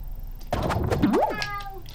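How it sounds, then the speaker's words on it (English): A cat sound effect from a platform video game plays, a single close, clear meow with a sliding pitch, sharp and bright over faint background. "Susie, that's another cat"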